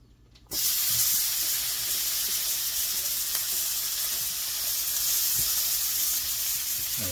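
Peppers and tomatoes sizzle in melted butter in a hot pan, a loud steady hiss that bursts in abruptly and then holds evenly, with faint stirring clicks and no talking.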